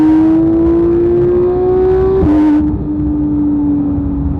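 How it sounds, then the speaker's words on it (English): A Porsche GT3 engine fitted with a GMG racing exhaust and headers revs loud and close in a sustained high, rising wail that briefly dips and then holds, with no voices. "throw a GMG racing exhaust and headers on this thing, and you have one of the best sounding cars ever"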